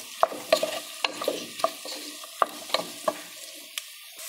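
A spoon stirs potatoes seasoned with salt and chili in a frying pan, giving a dozen or so sharp scraping clacks at an uneven pace over a soft sizzle, with no talking.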